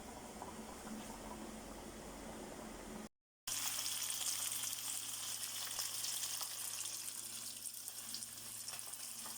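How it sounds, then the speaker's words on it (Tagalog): Garlic and onion sauté in a pan with a steady, dense sizzle that is briefly cut, then resumes louder and continues evenly. "Igisa na po natin yung ating bawang, sibuyas"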